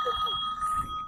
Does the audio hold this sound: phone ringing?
yes